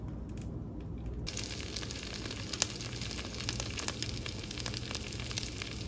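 Pancake batter sizzling in a pan: a steady soft hiss with scattered small pops and crackles, close and unbroken for several seconds, with no talking.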